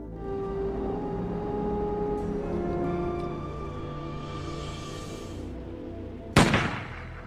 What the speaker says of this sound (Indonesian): tiba-tiba ia mendengar suara tembakan